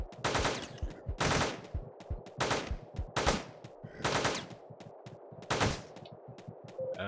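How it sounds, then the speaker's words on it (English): Rapid bursts of nail gun fire in the top-down shooter Teleglitch, repeated volleys of sharp mechanical shots with brief gaps between them, loud and close, no talking. "we'll just use a nail gun"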